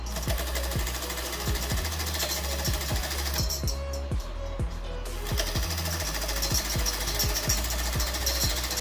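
A sewing machine runs close and steady, stitching dori piping for a kurti neckline with a rapid rhythmic needle clatter, pausing briefly midway before resuming.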